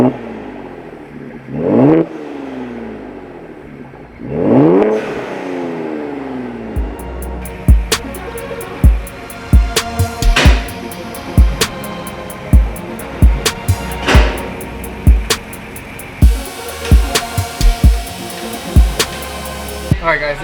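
A 2025 Ford Explorer ST engine with stock downpipes, revved repeatedly: two long rising revs, then a rapid series of short sharp blips with pops, loud and close.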